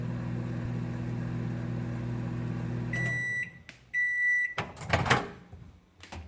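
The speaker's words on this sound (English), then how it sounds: "throw it in the microwave for 1 minute" A microwave oven hums steadily, then stops; two long beeps sound, followed by the door opening and clattering handling noises.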